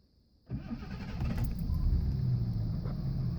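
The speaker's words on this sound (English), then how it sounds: "that's a normal warm start in this car" A 1984 Jaguar XJ6 Vanden Plas starts warm: a short crank catches after about half a second and settles into a steady, fairly loud engine run that continues to the end, with no talk.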